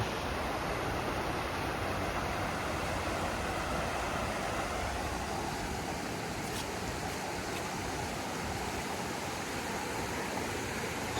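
Mimico Creek in Etobicoke, Toronto, rushes steadily, a dense, even wash of flowing water that stays loud and unbroken throughout, heard up close with no voices.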